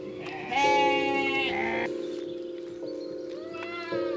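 Sheep with skin conditions, taken in by an animal welfare foundation, bleat several times in long, wavering cries, close by, with a steady tonal hum running underneath.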